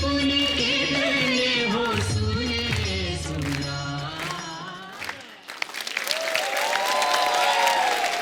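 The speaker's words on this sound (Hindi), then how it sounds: "तो आप सबकी जोरदार तालियों के बीच बुलाते हैं श्री राम जी का किरदार निभाने वाले अरुण गोविल साहब को" A television comedy show audience claps and cheers to welcome Ramayana actors at a Dussehra episode: music plays first, then a burst of applause rises after a short pause with music continuing underneath.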